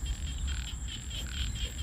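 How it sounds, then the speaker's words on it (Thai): Frogs croak in rhythmic repeated pulses near a fish trap set in water, fairly close and steady, with no talking over them. "กบตัวรุ่นเนาะมันจะพุ่งลงน้ำนะแต่นี้มันดังตุ้มเลย"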